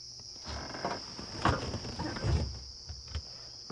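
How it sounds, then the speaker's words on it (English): A cicada calls steadily at sunset on a safari drive, a high, continuous buzz, with a few soft rustles and taps nearby. "That's a cicada."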